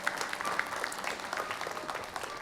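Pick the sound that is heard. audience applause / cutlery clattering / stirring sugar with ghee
audience applause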